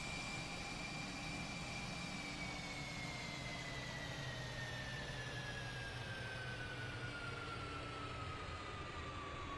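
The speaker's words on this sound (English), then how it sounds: "And now that the engines are running" Airbus A320 jet engines running in a JAR flight simulator: a steady, quiet turbine drone with a high whine that slowly falls in pitch, continuous and even, with no speech.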